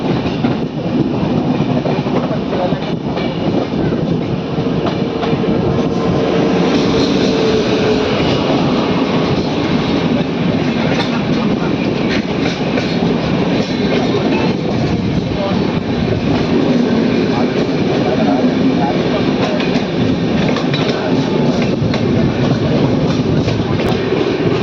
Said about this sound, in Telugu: వచ్చేస్తుంది ది లెజెండ్ కోరమండల్ ఎక్స్ప్రెస్.